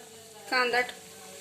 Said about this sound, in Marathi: आता त्यामध्ये गरम झाल्यानंतर आपण कांदा टाकून घेऊया